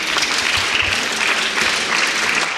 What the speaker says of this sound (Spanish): Da un aplauso por Dios, por la muchacha.